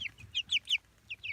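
Young chicks in a brood box give a run of bright, high clucks and peeps in quick bursts, close and clear with no voices over them.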